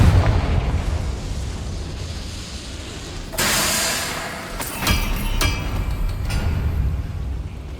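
Confringo explosive spell blasts in the Hogwarts Legacy video game, a loud burst around the middle followed by a sharper second boom, set against a steady rumbling game backdrop.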